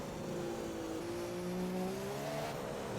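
A Formula 1 car in a racing video game cruises around the final corners of the Singapore Grand Prix circuit, its engine whining steadily with a rising pitch as it gently accelerates, close and continuous.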